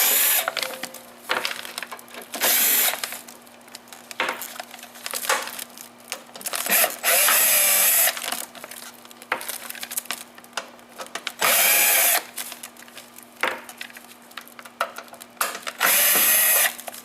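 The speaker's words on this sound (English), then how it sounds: "the first thing to do to get started is removing the 8 screws from here to put the brackets in place" Screws are backed out of the back roller area of a 1380i DTF printer with a power driver. Bursts of close mechanical whirring and ratcheting repeat through the clip with quieter handling gaps between them.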